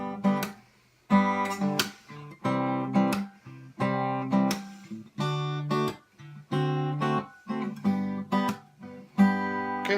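A guitar is fingerpicked close up through a slow chord progression, each chord sounded as a cluster of plucked notes that rings briefly before the next, at a moderate, quiet level with no speech.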